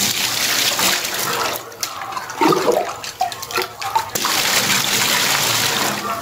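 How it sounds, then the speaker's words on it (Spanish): Water is poured out in splashy bursts for mixing cement on a floor construction job, loud and close. The pouring thins into brief gurgles and splatters midway, then a steady rushing flow returns. "Primero le echa 3 de agua."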